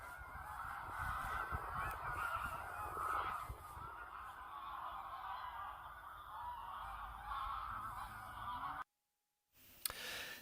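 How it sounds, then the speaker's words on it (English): A flock of geese honks continuously as the birds settle down for the night, a dense chorus of overlapping calls heard at a moderate distance and cut off briefly near the end. "I think the geese are getting ready to settle down for the night."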